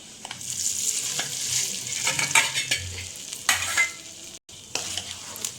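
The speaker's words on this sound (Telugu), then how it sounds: "ఇప్పుడు తాలింపుని రైస్లో కలుపుకుందాం." A spoon stirs a tempering of curry leaves into tamarind rice in a hot pan, steady sizzling with rhythmic scraping strokes, close and fairly loud with one brief pause.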